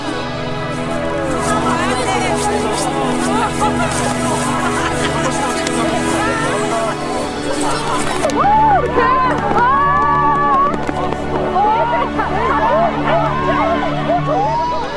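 Under a night sky as the aurora appears, a crowd of onlookers breaks into wordless shouts and cries of awe over a steady musical drone, the voices swelling louder in the second half.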